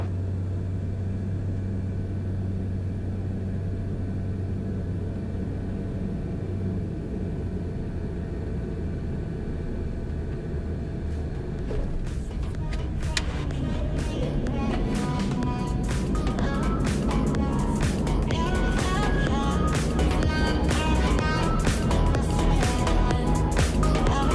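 Steady drone of a King Air turboprop's engines during a night landing approach over trees, loud and continuous throughout, with a denser, rattling layer building in the second half.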